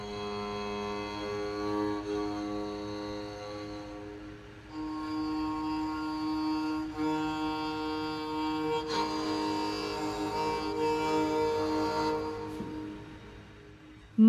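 A cigar box leg fiddle strung with viola strings, still not fully tuned, plays sustained bowed notes that shift in pitch across several phrases, fairly quiet and alone.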